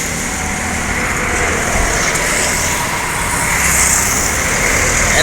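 A Unsri bus rolls along a toll road in southern Sumatra among other traffic, giving a steady, loud, broadband roar of engine and tyre noise that holds unbroken throughout.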